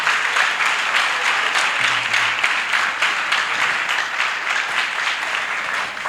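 A church congregation gathered at a Christian meeting in Benin applauds in a dense, continuous wash of clapping that stays even and full throughout, with a brief low hum partway through.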